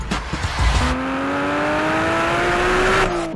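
A race car rolls onto the Paul Ricard circuit track, its engine a loud, steady drone that climbs gradually in pitch as it pulls away. A brief rumble and faint tyre noise come first.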